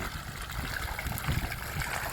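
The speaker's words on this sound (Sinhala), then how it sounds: "එතන තියෙනවා පොඩි වතුර මලක්. මෙතන වතුර මලක්." A small water fountain trickling in a public park in Žiar nad Hronom, a steady close splashing and gurgling flow with no voices.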